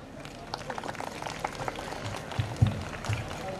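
Applause from an audience at a university sports day event, a dense patter of many hands clapping under a speaker's voice, with a few louder thumps near the end.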